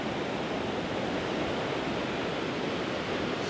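Milky glacial river water at Athabasca Falls in Jasper, Canada rushes between mountains, a dense, steady roar with no break, close and loud throughout.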